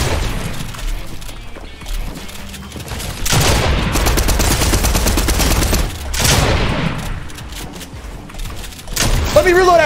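Dense, loud video game gunfire fills an arena-style match, with sustained automatic bursts and overlapping shots from several directions, occasional booms and impacts, and a voice talking over the firefight.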